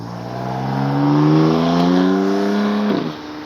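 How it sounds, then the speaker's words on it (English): A BMW engine revs up loudly and close, its pitch climbing steadily and holding high before cutting off abruptly near the end. "That's a BMW. His engine is about to blow"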